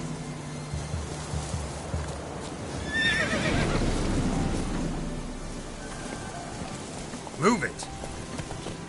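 A horse whinnies loudly and hooves clip-clop in The Witcher 3, with a short shout of speech over the clatter and a rushing, rain-like wash behind it.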